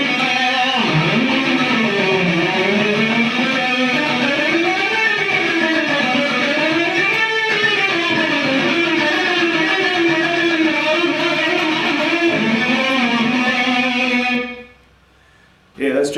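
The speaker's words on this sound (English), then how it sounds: "It's called the chromatic scale." A chromatic scale played in a jazz style, a continuous run of notes climbing and falling in waves for about fourteen seconds before cutting off abruptly into near silence.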